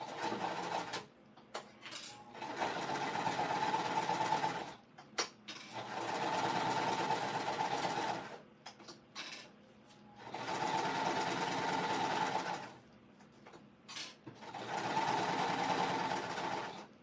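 A sewing machine runs top stitching in four long, steady bursts separated by short pauses. The motor whirs evenly and close by, and no one speaks.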